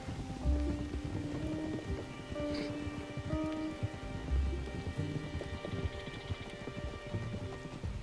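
Rain falling in the Red Dead Redemption 2 game world, a steady wash of raindrops with a couple of low rumbles like distant thunder, continuous and moderately loud throughout, with no talking.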